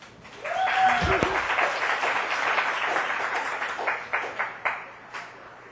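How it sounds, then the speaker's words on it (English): An expo audience applauds the smoothie and blended-juice makers with a sustained wash of many hands, fairly distant and soft, ending in a few scattered louder claps. "let's give them a round of applause"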